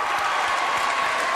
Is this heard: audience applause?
yes